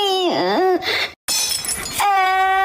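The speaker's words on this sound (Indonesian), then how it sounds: "Piringnya jatuh, pecah." A plate drops and shatters indoors in a home, a sharp crashing burst that comes right after a brief pause, with a wailing voice just before it and again after.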